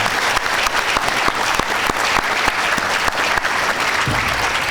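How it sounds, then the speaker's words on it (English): Audience at a World Environment Day event in Portland gives steady, dense applause, loud and continuous from start to finish with no talking over it. "So let's have a round of applause for leadership for these leaders and for all of the leaders in the room."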